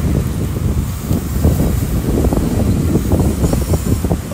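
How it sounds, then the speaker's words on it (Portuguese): Strong coastal wind at Praia de Cotovelo beach, Rio Grande do Norte, roars steadily, buffeting the microphone with a constant low rumble and gusty rustling throughout. "Muito vento mesmo."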